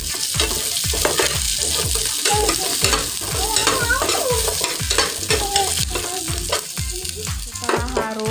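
Coriander, shrimp paste and garlic sauté in a pan, giving a steady sizzle under repeated rhythmic scraping strokes of a spatula, close and fairly loud with no talking.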